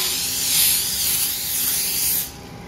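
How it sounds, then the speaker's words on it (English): A close, continuous hiss of aerosol oil spray onto the tops of bread pieces lasting about two seconds, then cutting off abruptly into quiet room tone. "I'm going to spray the tops of them"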